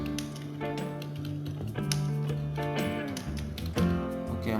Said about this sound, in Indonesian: maaf ngetiknya berisik karena pakai keyboard di apa ya